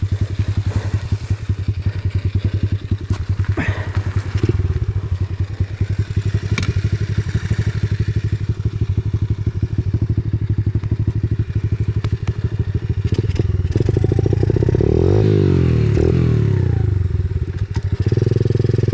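An Apollo RFZ X4 pit bike being ridden, its small single-cylinder engine buzzing loud and steady throughout with revving swells and some clattering bumps from the ride.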